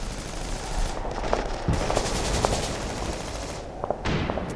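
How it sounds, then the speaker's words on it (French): MG42 machine guns fire continuously in a WWII video game battle at a border post, loud and close, with dense rattling bursts that break off briefly and resume. "Les MG42 réduisent au silence les quelques soldats qui tenaient encore leur position"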